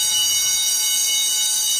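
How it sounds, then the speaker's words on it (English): A store security alarm blares continuously, a loud, steady high-pitched electronic tone with no pauses and no voices over it. "That's a security alarm."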